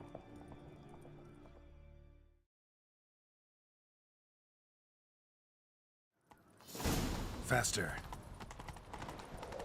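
Horses galloping in a chase in the video game The Witcher 3, a loud burst of rushing hoofbeats and whooshing motion that starts abruptly after a stretch of silence, with a voice urging speed.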